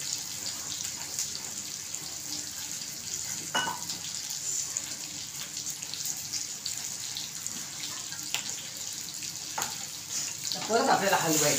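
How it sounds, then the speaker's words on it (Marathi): Spiced masala stuffing for Maharashtrian bharli vangi (stuffed eggplant) frying in oil and stirred, a steady close hiss with a few scraping clicks of the spoon, louder crackle toward the end. "परत आपल्याला हलवायचं आहे, कारण हा मसाल्याला पण आपल्याला चांगलं तेलात फ्राय झाला पाहिजे।"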